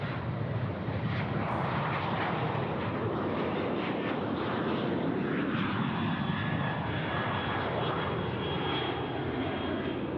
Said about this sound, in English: Velocity now 738. Getting away in front of us here